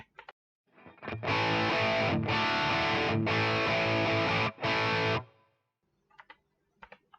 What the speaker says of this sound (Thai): แอมเสียงแตก ของฟีดแมนนะครับ